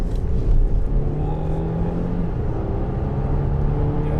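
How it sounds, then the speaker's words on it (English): A 2019 Volvo XC90 hybrid accelerating around a roundabout, heard as a steady, fairly loud engine and road hum with a faint rising whine throughout, with no talk. "As we go around this roundabout, we will feel the power that this car has to offer."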